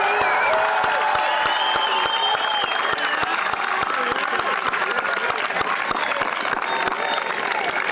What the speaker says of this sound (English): One more round of applause for the Millis High School class of 2024.